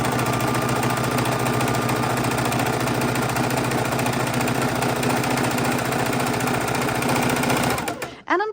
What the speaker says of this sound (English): So we're just going to pop it in the machine. We're going to chain stitch a lot of them.